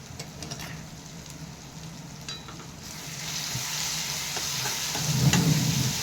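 Semolina roasting in a pan alongside a tempering of curry leaves, turmeric and salt, a soft continuous sizzle with scattered stirring scrapes that grows louder toward the end.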